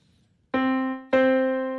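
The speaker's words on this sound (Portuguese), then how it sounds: "Esse é um som de piano." Two struck piano-voice notes on an electronic keyboard, each a clean bright tone with rich harmonics that sustains and fades slightly, the second following about half a second after the first, close and with no talk.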